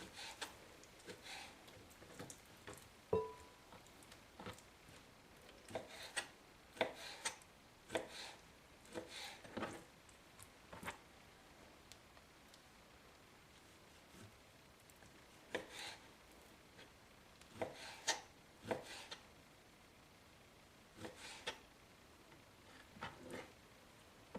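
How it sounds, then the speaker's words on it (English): A knife slices through raw deer meat for Chamorro deer kelaguen, giving soft, repeated cutting strokes in an irregular rhythm, close and fairly quiet with no talk. "And you just continue to slice up all your meat."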